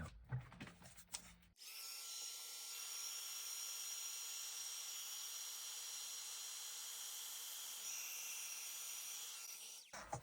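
A heat tool blows a steady, even whir for about eight seconds while it heat-sets embossing powder on metallic cardstock, starting after a few brief handling sounds and stopping abruptly at the end.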